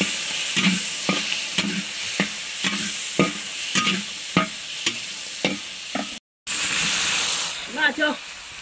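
Chili peppers and pork stir-fried in a wok, a loud continuous sizzle broken by rhythmic scraping strokes of the spatula, close up, with a brief gap and a voice speaking near the end.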